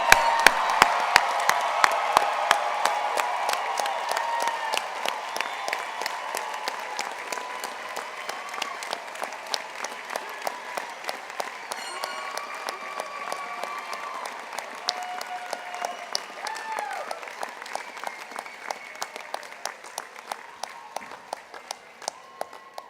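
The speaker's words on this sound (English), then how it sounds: "please join me in a big round of applause for our graduates" Large audience at a 2018 university undergraduate commencement ceremony giving a long, sustained round of applause for the graduates, dense clapping with scattered cheers and whoops, gradually thinning and softening toward the end.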